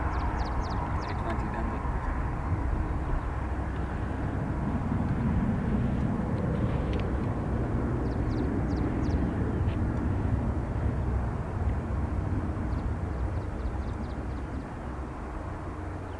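Airbus A330 jets depart Dublin Airport, a steady distant engine roar rumbling across the whole span, with chirping birds and faint talk in the background.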